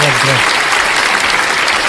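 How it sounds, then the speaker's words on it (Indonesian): Short burst of applause during an Indonesian talk show discussion, dense clapping filling the whole moment, with a brief voice at the start. "tepuk tangan Bang Kores"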